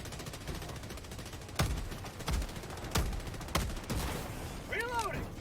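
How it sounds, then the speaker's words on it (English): Heavy cannon blasts in Helldivers 2 aimed at an enemy fabricator: four sharp, loud booms roughly a second apart, then a whining mechanical sweep, with faint game noise between shots. "I use this cannon to take out this fabricator"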